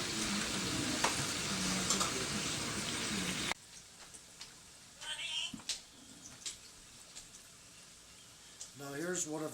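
Fleischkuekle frying in cooking oil, a dense steady sizzle at first, then quieter crackling and popping with brief bursts of higher-pitched hiss, alone with no talk.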